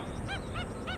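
A stilt parent at Cooks River calls protectively near its chick, three quick nasal yelping honks in a row over steady outdoor background noise.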